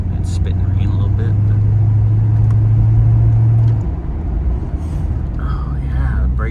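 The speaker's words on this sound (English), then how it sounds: "I'm just gonna go for a little test drive, see how she's doing." A 1988 Chevrolet Corvette on a test drive on a cool, drizzly morning gives a steady low engine drone with a sustained hum that drops off partway, then road rumble continues; someone talks quietly over it.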